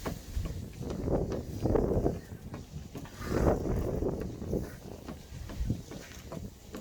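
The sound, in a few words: wind blowing into the microphone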